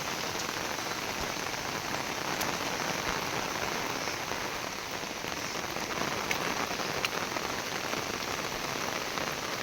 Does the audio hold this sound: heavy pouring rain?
yes